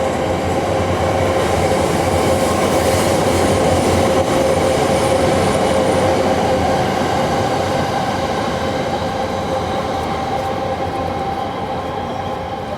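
A JR Hayabusa shinkansen train passes near Tokyo station with a steady, loud rolling rumble and a faint high whine that holds unbroken throughout, with no voices.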